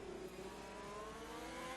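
Race cars in a racing video game at the Hungary circuit accelerating back up to racing speed, a steady engine whine rising slowly in pitch, fairly faint and continuous.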